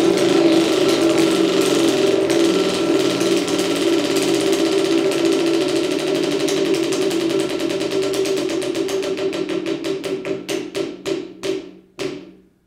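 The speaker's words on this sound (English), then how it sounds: "Remember, once I spin this wheel, there is no turning back." A prize wheel spins with rapid ratcheting clicks that gradually slow into distinct, spaced ticks before stopping, loud and close, with no voices.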